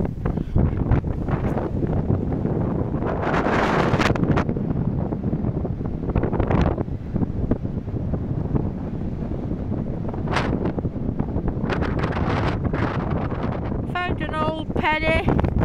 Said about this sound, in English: We're on Cleveleys Beach now, and it's very windy.